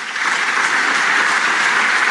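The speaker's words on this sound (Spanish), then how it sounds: "fría ovación, porque si bien dura bastantes minutos, dura más de 3 minutos por ahí" A stadium crowd gives Lionel Messi a long ovation at his Barcelona farewell, a steady, dense roar of applause that fills the space evenly, with no voices standing out above it.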